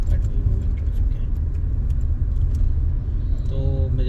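Steady low road rumble of moving traffic in Whitefield, Bangalore, heard from inside a car, continuous and fairly loud, with a brief horn-like tone rising near the end.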